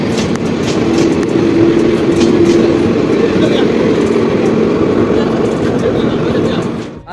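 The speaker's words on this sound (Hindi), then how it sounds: "Howrah Raxaul summer special train Lakhisarai में अराइवल होता हुआ इस साइड से निकल चुका" Howrah Raxaul Summer Special train passes through Lakhisarai Junction, producing a loud, steady rolling rumble that holds for about seven seconds before easing off at the end.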